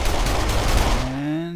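An enemy in a video game fires his last two bullets, a rapid close burst of gunshots that stops after about a second, followed by a rising tonal game sound as the shooting ends.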